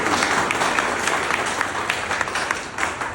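An audience applauds at a public talk, with dense sustained clapping from a crowd that stays loud and even for several seconds, rising and falling slightly.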